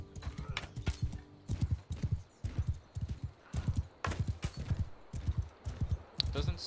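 Galloping horse in the video game Mount and Blade 2 Bannerlord during horse archery, a steady rhythmic run of hoof clip-clops throughout, with a brief whinny and a voice talking over it.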